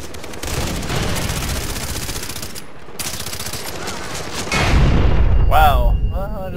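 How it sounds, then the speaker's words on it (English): Far Cry 3 multiplayer firefight on PC: sustained rapid gunfire rolls on, then a loud grenade blast booms near the end, followed by whining high-pitched game effects. "I just got roached by a grenade"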